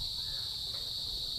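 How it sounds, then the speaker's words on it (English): Crickets shrill loudly at night in Naga City, Bicol, a continuous high, even chirring drone that persists unbroken over faint low background rumble. "The crickets are really very loud."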